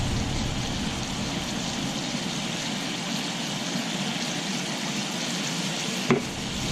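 Thyme sautés in extra virgin olive oil in a pan, a steady soft sizzle and crackle hissing evenly throughout, with one small clink near the end.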